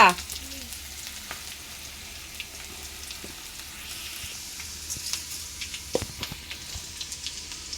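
Flattened rice frying in a hot pan at home, a steady close sizzle with occasional stirring clicks and scrapes, no talking over it.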